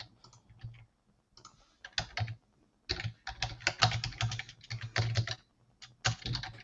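Steady typing on a computer keyboard during a remote pair-programming session, with quick clustered key clicks in bursts and short pauses, close and fairly clear with no talk over it.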